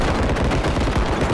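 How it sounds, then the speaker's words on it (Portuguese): Gunfire in the video game Bodycam sounds as a loud, dense burst of rapid shots that blur into one continuous roar. "O tiro é muito alto."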